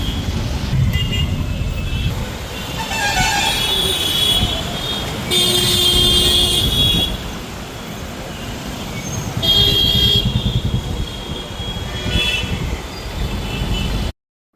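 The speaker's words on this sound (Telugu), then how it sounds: "ఘోరమైన ట్రాఫిక్ జామ్." Heavy road traffic rumbles nearby while car horns toot repeatedly, several long honks overlapping from different vehicles amid the engine noise.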